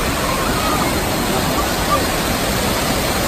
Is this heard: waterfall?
yes